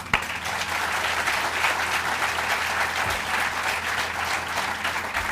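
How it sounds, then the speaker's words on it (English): Steady applause from a large crowd, dense and sustained throughout with no talking over it. "please give me a round of applause to those folks"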